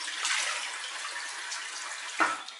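Water running steadily from a tap during rinsing, a continuous close hiss and splash with a brief louder splash near the end, and no voices.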